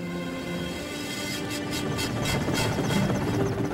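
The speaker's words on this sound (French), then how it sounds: "Un hélicoptère transporte le reste de l'équipe jusqu'au site de Vilcabamba." A helicopter flies over high Andean peaks, a steady mechanical drone with rhythmic rotor thumps growing clearer, moderately faint and alone without voices.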